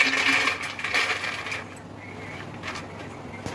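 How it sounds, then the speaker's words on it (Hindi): Crispy fried namak paare rattle and clatter in a sieve just after frying, a close, busy shaking sound that eases off midway, with no talking. "अब कितने करारे निकले हैं आप इसको इसकी आवाज़ से महसूस कर सकते हैं।"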